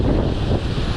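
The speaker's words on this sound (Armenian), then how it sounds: "Քամի սկսվավ։" Strong wind buffets the microphone outdoors, a loud, dense low rumble that roars without letup.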